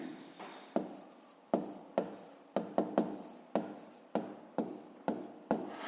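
Pen or chalk writing numbers during a Grade 5 maths exercise, a series of short scratchy strokes in a steady irregular rhythm, each starting with a sharp tap and fading, close and alone without talk.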